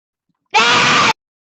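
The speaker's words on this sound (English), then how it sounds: "There was some screaming." A toddler lets out a single loud, sustained scream lasting about half a second, harsh and close, with silence before and after.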